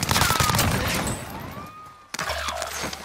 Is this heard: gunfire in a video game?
yes